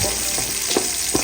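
Onion and ginger sautéing in a pan with garlic already in, a steady close sizzle broken by a few soft scrapes or stirs.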